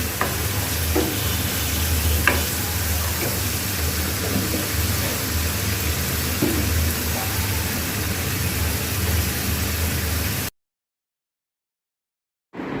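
A bay leaf crackles in hot oil as part of a Bengali prawn curry, with steady loud sizzling and faint pops, then an abrupt cut to silence.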